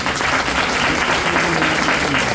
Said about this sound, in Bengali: জেগে আছেন একবার হাততালি দিন।